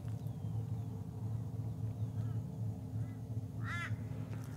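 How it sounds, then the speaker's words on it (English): A crow caws in the background, a few short calls with one clearer burst near the end, set over a steady low hum and broadband outdoor noise. "you will hear the crow always harks in the back."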